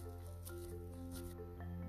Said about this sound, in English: Now we'll roll it into a ball. Because we have dipped it in water, so it becomes soft, we can shape it, rolling it in between our palms.